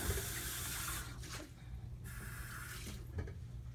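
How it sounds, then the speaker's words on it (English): A kitchen tap runs steadily while a drinking glass is rinsed under it, with the water stream hissing continuously and shifting in tone as the glass moves. "when I take this glass here and we rinse it off"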